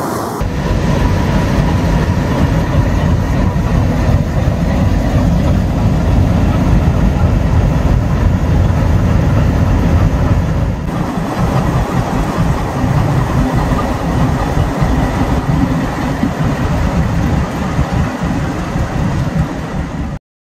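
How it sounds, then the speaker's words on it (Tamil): A Gooty shed WDM3A diesel locomotive hauling the Okha Rameswaram Express with an old ICF rake rumbles steadily and loudly for about twenty seconds, with a deep engine drone, rolling wagons and a slight shift in tone midway. "இன்னைக்கு நம்ம ஓகா ராமேஸ்வரம் எக்ஸ்பிரஸ் புல் பண்ண போகிற லோக்கோ குண்டக்கல் ஷெட்டோடைய"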